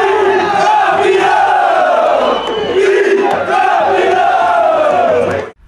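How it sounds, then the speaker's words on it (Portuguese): An organized crowd of football supporters celebrates at a youth league final with drums and big flags, a loud sustained roar of chanting voices filling the space before it cuts off abruptly. "A torcida organizada do Araguari fez a festa com bateria e bandeirões"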